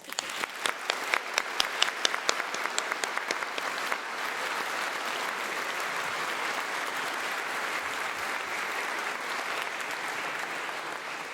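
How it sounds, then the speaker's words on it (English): A graduation ceremony audience claps for tutors, opening with scattered sharp claps that quickly swell into steady, dense applause filling the hall and sustained to the end. "Let us give a round of applause to our remarkable tutors"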